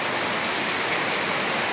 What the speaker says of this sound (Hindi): बारिश बहुत जोरदार से हो रहा है